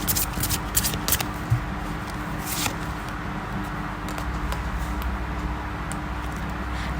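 Tarot cards shuffled by hand, a steady riffling and sliding rustle, close and fairly loud, continuing for several seconds with no voice.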